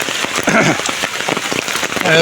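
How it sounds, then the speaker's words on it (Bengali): Heavy rain pours steadily over farm fields of cucumber and potato crops, a dense close hiss of drops on surfaces throughout, with a voice faintly talking over it. "এরকম প্রচণ্ড বৃষ্টি হইতেছে আজ দুই তিন দিন ধরে প্রচণ্ড বৃষ্টি"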